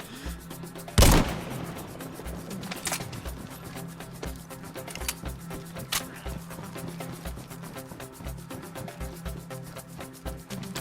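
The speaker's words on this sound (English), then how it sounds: "That lousy shot broadcasted my position to every player on the airfield" A single sharp, loud gunshot rings out near the start in DayZ on PS5 at an airfield, followed by a couple of fainter distant shots over a low, steady background hum.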